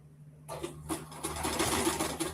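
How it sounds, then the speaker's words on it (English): A sewing machine stitches a half-inch seam on a Maeve top, starting abruptly after a brief quiet moment and then running in a short, steady mechanical whirr. "I'm sewing this down at a 1/2 inch seam allowance, and I am removing the pins as I approach them"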